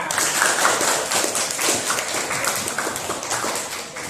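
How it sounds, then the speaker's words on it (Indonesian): A classroom group of students clapping hands together at the end of an Indonesian maths lesson, a dense, steady patter of many hands held at even loudness throughout, with no talking over it. "tepuk tangan semuanya"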